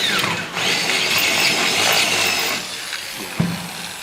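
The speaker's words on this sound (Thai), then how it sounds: "เราต้องเอียง ดอกสว่านเข้าไปหามุมนิดนึงครับ" A power drill whines steadily through an aluminium window frame, held at an angle, for several seconds, easing off briefly near the end, with a short knock.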